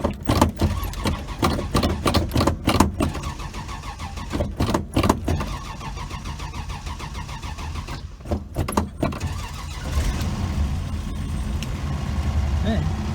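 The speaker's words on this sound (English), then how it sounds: "Let's see if this car will start up." A 1966 Dodge Dart GT barn find cranks through a series of sharp starter bursts, then catches and settles into a steady, rough idle, with a person's voice briefly audible nearby.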